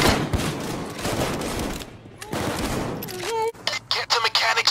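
Rapid crackling bursts of fireworks in PAYDAY 2 pop loud and dense for about two seconds, then resume after a brief gap, with whistling rockets and a voice shouting amid the game's noisy mix.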